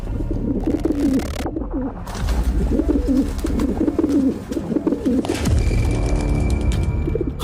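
A pigeon-like bird coos repeatedly in a Himalayan cave, its low rolling calls coming in steady phrases, close and clear over faint background noise.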